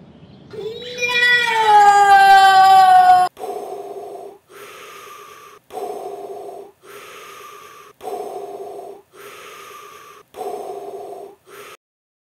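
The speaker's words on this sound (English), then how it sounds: "Would you please stop that breathing?" Darth Vader's heavy mechanical respirator breathing in a comedy parody: a drawn-out voiced groan, then loud, close, evenly spaced hissing inhale and exhale cycles, about six in a steady rhythm, alone with no talk over them.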